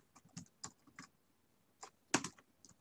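Java code is typed on a computer keyboard in short, quiet bursts of keystrokes separated by pauses, with one louder cluster of clicks near the end and no talking.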